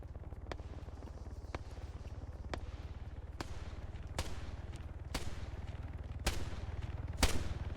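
Sharp single gunshots crack out in an Arma 3 firefight, about nine separate reports at irregular intervals, some nearer and louder, over a steady low mechanical drone like an idling vehicle engine.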